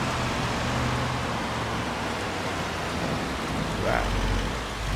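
Steady video game rain in Farming Simulator 25 hisses in a constant wash, with a low rumble swelling near the end.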